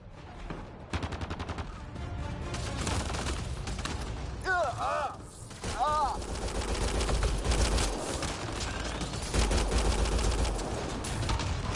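Gunfire in Mass Effect Andromeda, rapid automatic bursts and continuous shooting mixed with explosions and mechanical noise, loud and dense, with voices speaking over the fighting.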